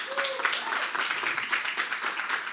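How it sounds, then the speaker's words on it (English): An audience at an evening talk event claps for the organiser, producing a steady, fairly soft patter of many hands, heard at a moderate distance with no voice over it. "Let's give him a round of applause."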